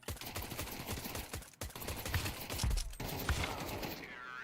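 Pistol gunfire in the video game Devil May Cry, a dense stream of rapid shots and impacts mixed with busy game effects and music, with a player's voice talking over parts of it.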